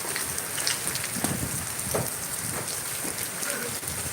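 Steady, dense heavy rain hisses continuously after nine or ten hours of downpour, drops pattering on surfaces close by, with no clear breaks.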